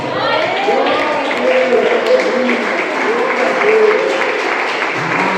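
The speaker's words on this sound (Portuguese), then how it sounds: "eu gostaria que a igreja soltasse um brado de glória a Deus muito forte por esta palavra e desse muitas palmas para Jesus" Church congregation clapping and shouting praise to God together, a continuous loud wash of applause mixed with raised voices.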